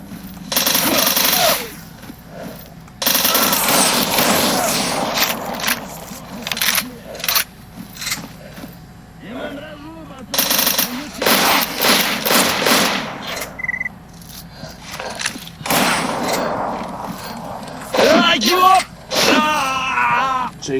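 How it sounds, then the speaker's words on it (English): Repeated gunfire from shooting in the video game Anomaly, with a recon scout fighting bandits. The shots come in loud bursts with short gaps and scraping game noise between them, and no one talks. "It just seems like I'm having to shoot too many times."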